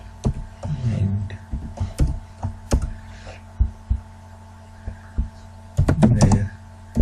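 Code is typed on a computer keyboard in uneven clusters of clicks and taps over a low steady hum, with pauses between bursts and a busier flurry of keystrokes near the end.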